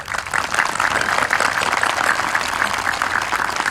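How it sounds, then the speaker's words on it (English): Steady applause from a large crowd at a high school graduation, many hands clapping continuously at an even level throughout. "Please give them all a round of applause."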